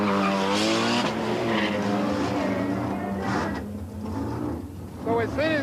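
Drag racing cars launch off the start line with roaring engines and screeching tires, loud and sustained, while someone talks over the noise throughout.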